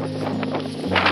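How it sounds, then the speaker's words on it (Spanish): Strong mountain wind on Nevado Palermo, near 4,600 metres, buffets the microphone in a steady, rough roar with a low hum underneath and gusts swelling toward the end. "Se levantó ventoso,"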